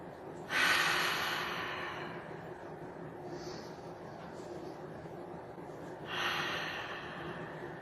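Slow, deep yoga breaths in a quiet room: two long, breathy airflows several seconds apart, each swelling and fading gently, with a soft background hush between them and no speech.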